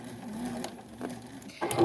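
Sewing machine with a regular everyday presser foot reverse stitching a quarter-inch seam on a fabric project bag, a steady low mechanical hum at close range with brief louder bursts near the end.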